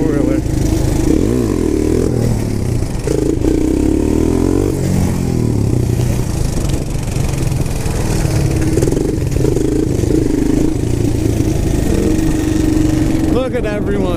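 A four-wheeler ATV engine runs loud and steady, revving up and down during a rainy ride, with voices talking over the motor.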